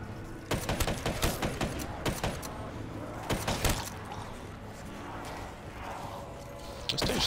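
Bursts of gunfire from Black Ops 3 Zombies, clustered sharp shots in quick volleys with gaps between, close and fairly loud over a busy game background.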